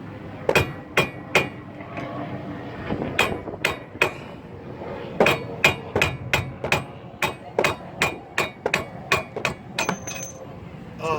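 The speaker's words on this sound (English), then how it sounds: "turn your screwdriver like this and keep on hammering" Sharp metallic hammer strikes on a screwdriver ring out in irregular bursts while removing a car's front wheel bearing, some quick in succession, others spaced apart, close and loud with no talking.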